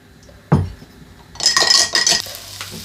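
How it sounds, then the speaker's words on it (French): Vegetables with tomato sauce, spices and olive oil are mixed in a pot, with one sharp clank followed by a run of metallic scraping and clinking, close and fairly loud. "J'ajoute un petit peu d'huile d'olive et on mélange tout ça."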